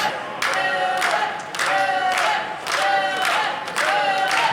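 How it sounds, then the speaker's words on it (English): Wrestling crowd at a pro wrestling event rallying behind Warhammer, a dense roar of cheering and rhythmic clapping swelling in repeated bursts, loud and close throughout. "And this crowd trying to rally behind the Warhammer."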